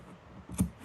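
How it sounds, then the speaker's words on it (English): A single quiet snip as scissors notch the seam allowance of sewn vintage-style corset fabric, close and faint, over a low room background. "Now I'm going to notch round this part."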